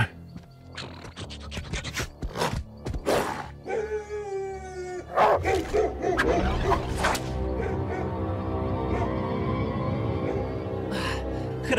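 Cartoon dogs in an animated series bark and howl, a burst of sharp close yelps and scratchy hits followed by a long rising howl, then a sustained chorus of layered barking and howling under music.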